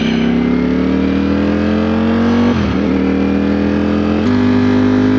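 A Ducati Streetfighter V4S motorcycle engine runs close by with a loud, steady growl, dipping briefly midway before surging back up, with no talking.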